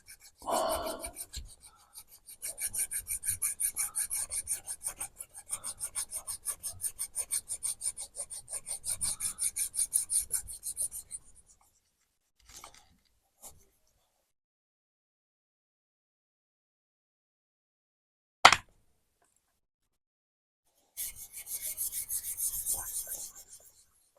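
A knife blade is rubbed gently on a flat sharpening stone in a long run of close, even rasping strokes, then brief scrapes, a sharp knock and a final short burst of strokes.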